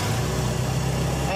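A Ford Model T engine runs with the spark retarded, sounding a bit rough: a steady, close, low mechanical rumble with no pauses, and a voice faintly present over it.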